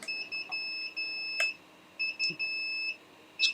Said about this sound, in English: It's got a bit of an alarm going on just now.